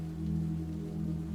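Soft, unbroken rainfall on a Brighton night, a gentle even patter over a steady low drone, with no talking.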